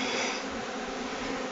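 Honey bees swarm around a feeder, a thick, continuous buzzing drone that stays close and loud without pause and with no voices present.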